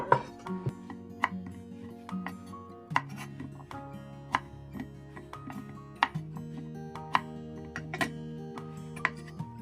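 A knife chops through pickled cucumbers (oiji) on a cutting board, giving sharp, evenly spaced taps about once a second, close and fairly quiet against a faint humming background.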